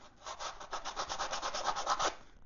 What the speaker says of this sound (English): just a little bit of sandpaper to take off the edge of the tongue is gonna make it fit up really nicely